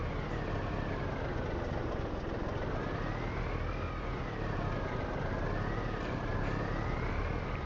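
A truck engine in Farming Simulator 25 runs with a steady, moderately loud drone, its pitch gently wavering as it revs slightly up and down, with no voices.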